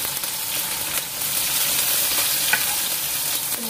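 Onion sautéing in a hot pan for a spicy wood ear mushroom stir-fry, a loud steady sizzle and frying hiss that continues throughout with no pauses, close to the pan.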